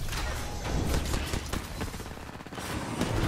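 Gunfire in the video game Apex Legends: dense, rapid bursts of shots rattle continuously through a short, busy stretch of loud in-game combat noise.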